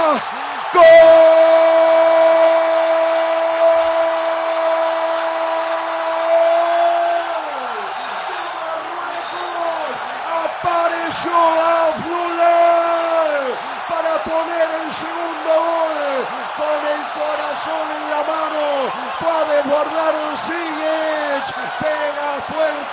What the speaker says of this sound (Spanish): Pega fuerte el grito, Abdullah, se desatan las gargantas en el Alto Umama y el rugido se multiplica